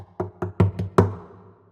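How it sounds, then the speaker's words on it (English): Five dull, hollow thumps on the wooden body of an acoustic guitar, evenly spaced and close, the last one ringing out a little longer. "Then we have body hits"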